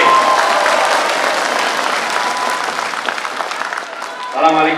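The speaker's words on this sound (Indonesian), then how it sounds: "Beri tepuk tangan sekali lagi untuk Mas Ahaye." A crowd at a Democratic Party people's dialogue event applauds a speech with loud, dense clapping that slowly tapers, and a voice begins speaking near the end.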